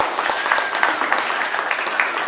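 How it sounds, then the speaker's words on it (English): Audience applause at a music workshop on the music industry, a dense steady wash of many hands clapping throughout, loud and close, with no speech over it. "So a round of applause for these two guys."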